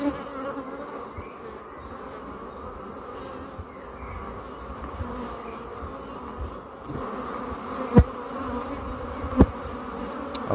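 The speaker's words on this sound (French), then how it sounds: "j'ai tapé le cadre, il y a un peu d'abeilles qui s'envolent" Honeybees hum densely around an open hive frame during a summer inspection, a steady close buzzing swarm broken by two sharp knocks as the frame is tapped and some bees lift off.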